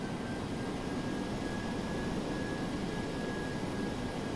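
Jet aircraft engines droning steadily nearby during taxiing at a snowy airport in Flight Simulator X, a constant broad roar with a thin high whine running through it, heard alone without talk.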